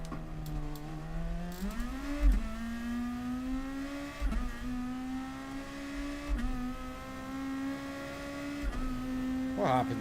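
Nissan GT-R race car in Iron Brew livery, driven in Gran Turismo Sport at the Red Bull Ring, holds a steady, close engine drone that climbs in pitch through upshifts, with brief dips and surges as it accelerates.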